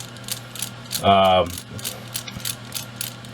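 An RC brushless motor is taken apart by hand, giving small close clicks and ratcheting taps from a screwdriver on its screws, with one longer whirring buzz partway through.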